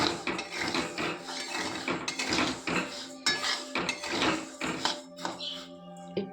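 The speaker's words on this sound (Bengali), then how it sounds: "একটু গরম হওয়া মতন আমি নেড়ে নেব" Tapioca pearls stirred in a dry pan to warm, a busy rhythmic rattle of small grains and spoon scraping against metal, close and steady throughout.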